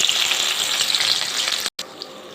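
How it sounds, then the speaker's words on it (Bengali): Chopped onions fry in hot mustard oil with a steady, loud, close sizzle and crackle, cut by a brief silent gap near the end before the frying resumes. "তেলটা গরম হয়ে গেছে, এখন আমি কেটে রাখা পেঁয়াজ দিয়ে দিব।"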